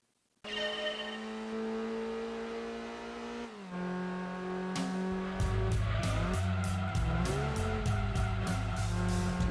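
Honda Integra Type R, a front-wheel drive car, in Gran Turismo 2: an engine starts and revs steadily, drops briefly as the gear shifts, then climbs again under a rising, pulsing drone, loud and continuous with no talk.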